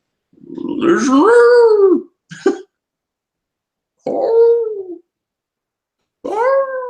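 A person's voice imitates a dog howling, giving a few drawn-out, wavering howls separated by short silences, close and fairly loud, with no other sound around them.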